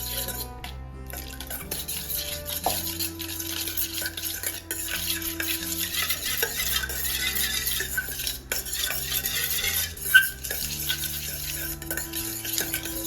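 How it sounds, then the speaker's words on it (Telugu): A spoon stirs chili powder, salt and a little water into a paste in a bowl, with a continuous soft scraping and clinking rhythm and one sharper knock near the end. "కొంచెం లైట్గా వాటర్ పోసుకొని మిక్స్ చేసుకోవాలండి"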